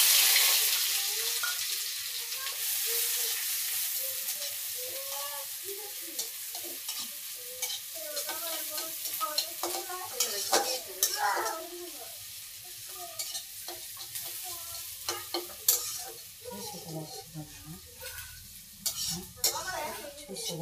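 Chilies fry in a pan with a bright sizzle that fades into softer crackling, broken by stirring scrapes and clatters of a utensil against the pan, with faint talk in the background.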